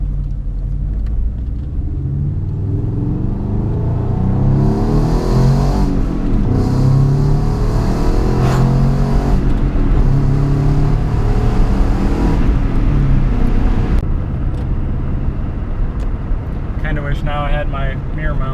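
Car driving past on a favorite back road during a ride along, heard as a loud, steady rumble that swells and fades, with voices talking over it.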